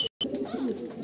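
A pigeon coos in low, soft, rolling notes at close range, a short burst of higher chirps coming just before a brief gap and the steady cooing that follows, with no talking.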